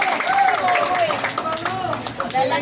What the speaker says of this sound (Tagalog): Ang hina na palakpak nyo.